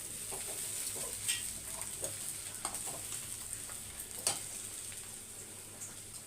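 Potatoes roast and sizzle in a pan on a home stove, a steady faint frying hiss with scattered small pops and ticks, no voices.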